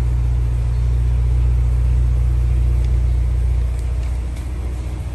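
A Ford Mustang engine in exhaust mode gives a deep, loud, continuous rumble heard up close, holding steady before easing slightly toward the end.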